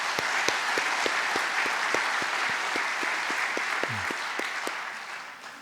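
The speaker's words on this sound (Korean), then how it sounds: "우리 하나님께 영광의 박수 하겠습니다." A congregation gathered for a church's 80th anniversary thanksgiving service gives sustained applause, dense clapping with a few sharper individual claps standing out and a slight fade toward the end.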